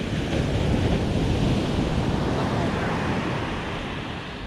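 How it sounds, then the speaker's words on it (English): Ocean surf breaks and rushes along a Florida beach, a dense, loud, continuous roar heard up close with wind buffeting the microphone, easing slightly toward the end. "Come with waves now."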